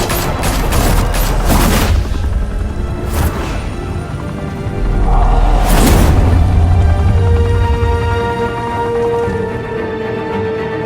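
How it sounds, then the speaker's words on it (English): Gunfire erupts in a shootout at a Gotham mafia high-rise club in The Batman Telltale Series, with loud bursts and blasts in several waves over a rumbling background of fire and explosions. "Open fire!"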